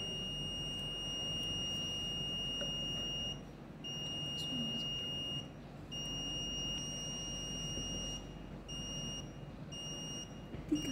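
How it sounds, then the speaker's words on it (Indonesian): The buzzer of a water level measuring prototype sounds a thin, steady high-pitched tone, cutting out briefly a few times. It plays faintly over room noise, with no talk. "buzzernya bisa didengarkan yaitu menyala"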